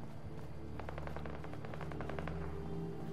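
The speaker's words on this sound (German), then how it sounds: "Ich höre Schüsse." Distant gunfire in the video game Fallout 4, a rapid string of faint shots in bursts over a steady low ambient drone.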